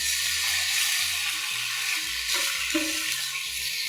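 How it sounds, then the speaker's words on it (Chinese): Tomatoes and garlic sizzle as they are stir-fried in a pan with the food moved around, a steady close crackle for a few seconds. "我们把番茄也翻下来，稍微炒一下"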